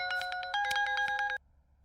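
Phone ringtone playing while a call is placed: a bright, repeating electronic melody of short pulsing tones, loud and close, running steadily before cutting off into quiet room noise.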